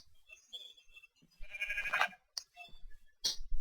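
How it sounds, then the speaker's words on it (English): Sheep on an outdoor walk bleat at moderate distance: a few short, wavering calls come in separate bursts, separated by quieter gaps and some faint clicking, with no one talking. "There's a lot of sheep this way."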